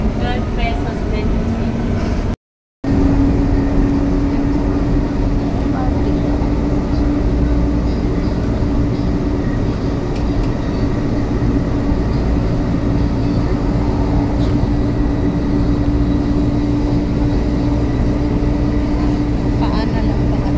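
Inside a moving MRT metro train in Manila, a loud continuous rumble and hum of the carriage fills the ride, with a brief dropout near the start.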